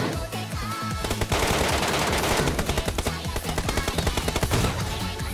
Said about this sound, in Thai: สแนปยิงแบบสองนัด